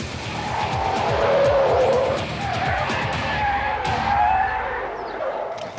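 A car accelerates hard into a slalom course with the engine roaring close by and tires squealing and skidding steadily throughout, fading slightly at the end.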